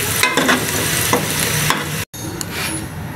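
Softened, golden onions sizzle with whole garam masala spices in a pan, a close crackling fry with stirring scrapes and a brief cut to silence partway through.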